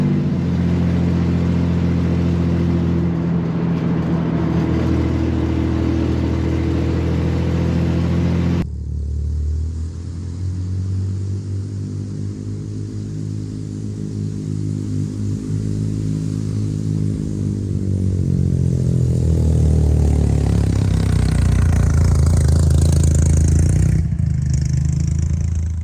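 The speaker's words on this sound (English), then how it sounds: "if you like flat 6 air-cooled noises," A Chevrolet Corvair chop top's air-cooled flat-six engine runs loud and steady throughout, its low throbbing drone shifting in pitch midway as if revving or changing speed, with no talk over it.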